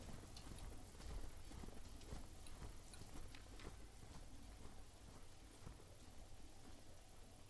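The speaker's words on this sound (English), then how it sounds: "Hear footsteps. They sounded really close." Quick footsteps in the video game Northbury Grove patter steadily and close, a continuous run of soft clopping steps with no talk.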